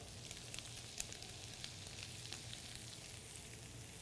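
Tomatoes and chunky vegetables sizzle in a hot pan for a pasta primavera, a soft, steady frying hiss with faint crackles that holds at low volume throughout.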